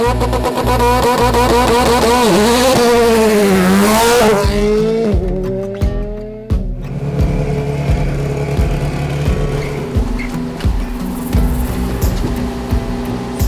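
A race car with large tires revs hard and launches, engine note climbing and shifting with tire squeal, then loud rough engine roar continuing close by.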